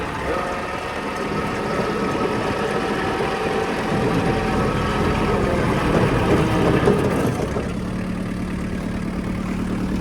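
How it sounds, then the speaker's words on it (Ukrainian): Kubota GT-5 mini tractor engine running while parked, a steady close mechanical hum that swells slightly midway, then settles into a lower, even idle with a faint tonal drone. "поставимо тракторець на місце та послухаємо роботу двигуна"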